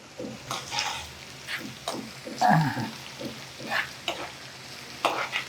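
Curry leaves and onions fry in a pan for gongura chutney, a soft crackling sizzle broken by the scrape and clatter of stirring, close and fairly quiet.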